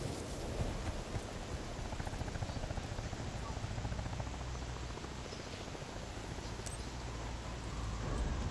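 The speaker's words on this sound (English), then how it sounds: "See if you can land that helicopter." A helicopter in a multiplayer military shooter game gives a steady, continuous rotor drone throughout, a dense broadband roar with a faint rhythmic chop, loud and unbroken with no other clear events.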